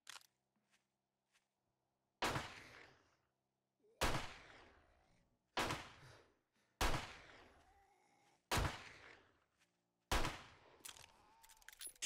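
Six heavy gunshots from a zombie survival game, 7 Days to Die, fired one at a time at irregular intervals of roughly one to two seconds, each a loud close blast with a decaying echo, over near silence between shots.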